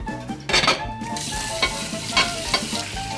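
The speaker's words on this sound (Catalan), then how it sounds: "Ara toca fregar els catxarros i els plats, tu." Pots and dishes being scrubbed in a kitchen, with repeated scraping, clinking and rubbing strokes in an uneven rhythm, close and fairly loud with no talk.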